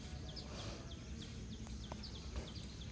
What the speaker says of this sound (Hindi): अपने आसपास चहकने वाले पक्षियों की आवाज़ों को महसूस करें।